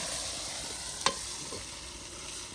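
Ginger, garlic and chilli paste hitting well-browned onions in a pan over an outdoor village fire, producing an even, hissing sizzle with one brief clink partway through.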